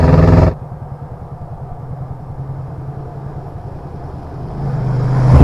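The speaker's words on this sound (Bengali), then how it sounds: "সোমনাথ চলে এসছে ভাই, বাইক নিয়ে একদম রেডি হয়ে চলে এসছে" A motorcycle arrives with a low, throbbing engine rumble nearby, holding steady after a sharp loud burst at the start, then growing louder toward the end.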